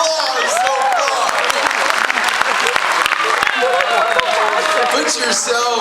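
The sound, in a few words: audience applause for hypnosis show volunteers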